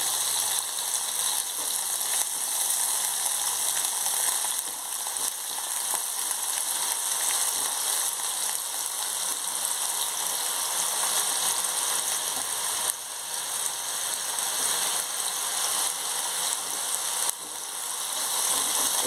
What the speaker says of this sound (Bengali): এতে উচ্ছেগুলোকে স্লাইস করে যে কাটা ছিল সেগুলোকে ভেজে নেব।